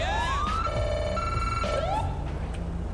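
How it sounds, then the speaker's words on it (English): A police car siren in the video game GTA 5 with the LSPDFR mod switches between tones, rising wails and electronic yelps over a steady engine hum, loud and close. "Hold E to change the siren tone."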